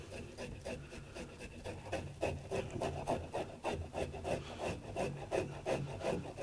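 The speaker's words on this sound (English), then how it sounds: "We're going to grab the fish by the head and just start scraping from the tail towards the head." A butter knife scrapes scales off a winter flounder, working from tail toward head in a kitchen, making repeated rhythmic rasping strokes, close and fairly quiet.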